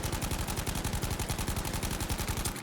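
Rapid automatic gunfire from the video game Battlefield V is heard as one continuous, steady burst of evenly spaced loud shots with no pauses, running close and alone until a brief tail at the end.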